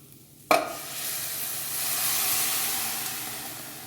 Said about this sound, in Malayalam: വേവിച്ച ഡാൽ ചേർത്ത് നന്നായി യോജിപ്പിക്കുക.